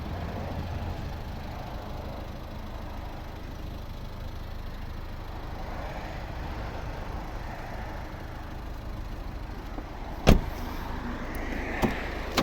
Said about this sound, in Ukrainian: Класно закриваються двері, хороші петлі надійні.